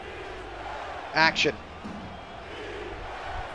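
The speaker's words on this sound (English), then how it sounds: "Crowd again on their feet." A stadium crowd at an American football game, Chicago at Oklahoma City, roars steadily in the background as a commentator speaks briefly over the din.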